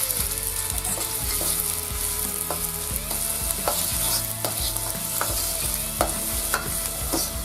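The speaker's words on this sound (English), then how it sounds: "Fry the onions from 3 to 4 minutes, maybe a minute more." Onions sizzle steadily in plenty of hot oil in a wok, with scraping stirring strokes throughout and background music underneath.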